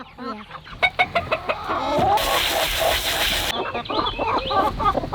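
Broody hens cluck in a loud, close, overlapping stream of short clucks and squawks, with a burst of rustling noise midway.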